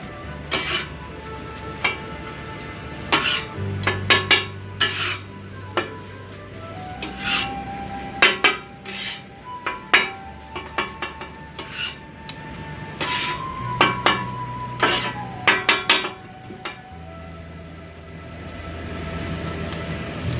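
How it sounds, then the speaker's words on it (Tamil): Sliced onions stir-fried in a pan for Sri Lankan chicken koththu, with repeated metal spatula scrapes and clanks against the pan over a low, steady sizzle. "நாங்கள் கொஞ்சம் ஒனியனும் போடுறோம். நல்லா பிரட்டி எடுப்போம்."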